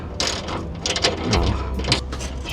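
A ratchet wrench turns out a bolt in a cramped space near asphalt, giving close, quick bursts of ratcheting clicks with short pauses between strokes.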